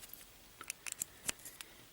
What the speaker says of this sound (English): I'm going to go ahead and attach these little alligator clips.